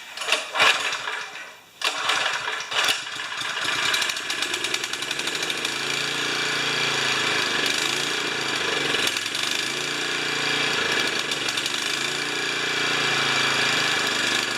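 A Champion pump's small engine runs on three-quarter choke. A few rough bursts give way to a steady, loud, rapid chugging that continues close by for over ten seconds.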